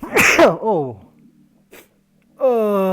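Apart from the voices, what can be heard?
sneeze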